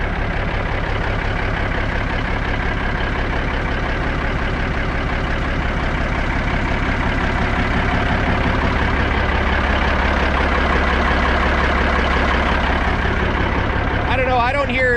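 A Kenworth Aerodyne K100E truck engine idling steadily, a loud rhythmic diesel chug that runs without a break close to the microphone, with a brief rattle near the end.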